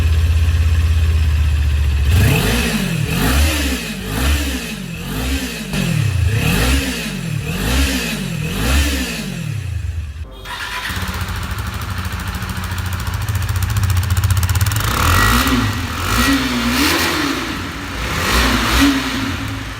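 Two small sport motorcycles, a Kawasaki Ninja 400 and a KTM RC390 on stock exhausts, rev loudly in turn: repeated rising-and-falling blips close up on the first bike, then a rougher, steadier idle with occasional revs on the second.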